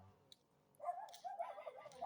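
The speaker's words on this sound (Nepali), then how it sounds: "सेतो कुकुर छ।" A white dog gives faint, quiet yips and whimpering barks outdoors, a short burst of soft, high cries in the last half of the moment after near silence.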